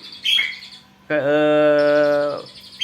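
A caged songbird mimicking a cangkurileng call gives a short chirp followed by a sustained, clear, harmonic whistled note lasting over a second, close and loud with no talk.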